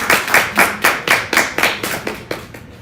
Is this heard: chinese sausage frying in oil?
no